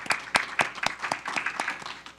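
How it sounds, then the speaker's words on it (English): Applause at a city council regular meeting, a small group clapping in distinct, uneven bursts that are close and moderately loud, lasting about two seconds. "So let's give her a round of applause and thank her"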